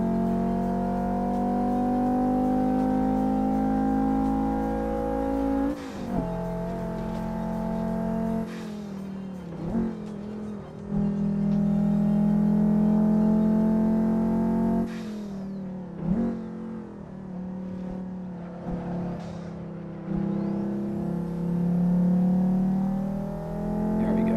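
Volvo five-cylinder engine in the Assetto Corsa racing game, held under steady throttle with a droning tone, briefly lifting off around a couple of gear shifts and then revving back up, loud and continuous with no talk.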